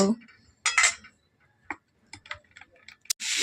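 A pomfret fish, rubbed with turmeric and salt, turned gently in a hot kadai: short metallic scrapes and clinks of a spatula against the pan, spaced out with quiet gaps and a soft sizzle at the end.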